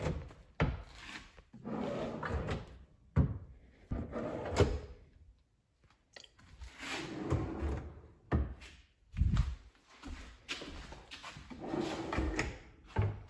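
A wooden cabinet drawer is repeatedly pulled out and pushed back in during a kitchen cabinet install, giving close sliding rubs and scrapes ending in sharp knocks, with brief quiet gaps between the strokes.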